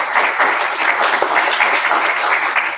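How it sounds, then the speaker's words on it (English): Loud, sustained applause from an audience at a talk, steady clapping filling the room without a break. "Round of applause for Dr. Thomas."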